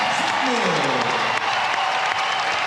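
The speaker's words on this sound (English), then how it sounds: "Dante Exum will get the cheers of the crowd as he enters the game" An arena crowd at a FIBA Oceania Championship basketball final between Australia and New Zealand claps and cheers in a broad, steady roar as a player enters the game, while a commentator talks over it.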